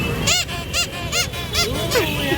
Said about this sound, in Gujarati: પોપટ જો કેવું બોલે